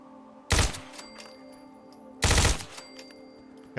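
A gun in the video game Fallout 4 firing two separate loud, heavy bursts of rapid shots about two seconds apart, with faint ringing tones between them.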